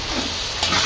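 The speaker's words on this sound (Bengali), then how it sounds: "এখন হচ্ছে আমি ছোলাটা রান্না শেষ করি" Chickpeas (chola) cooking in a pan for an iftar meal give a brief, steady sizzle with scraping stirring that grows a little louder near the end, with no voices.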